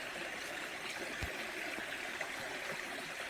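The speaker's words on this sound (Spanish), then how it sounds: "Ahí sale el agua." Spring water flowing out between two stones in a steady, soft trickling babble, close by and continuous, with no voices.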